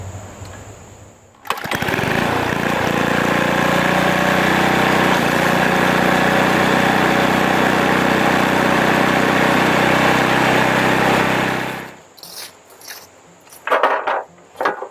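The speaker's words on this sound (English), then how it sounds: "The next thing you're going to want to do is get out your snowblower." A snowblower engine starts with a burst and then roars steadily and loudly up close for about ten seconds before cutting off, leaving quieter clatter afterward.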